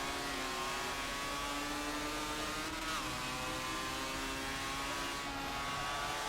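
Mazda RX-7 rotary engine in Forza Motorsport 7, a steady, sustained drone at moderate level, holding high rpm with a brief pitch dip near the middle as if shifting, continuing alone without talk.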